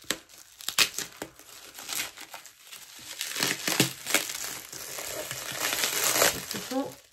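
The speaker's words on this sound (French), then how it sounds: "plutôt bien emballé dans du papier bulle" Crinkling and crackling of bubble wrap around a parcel being handled, irregular rustles growing busier and louder toward the end.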